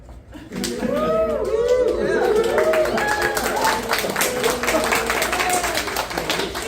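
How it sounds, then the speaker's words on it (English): A crowd claps and cheers loudly and steadily, with a voice talking over the applause. "a big round of applause"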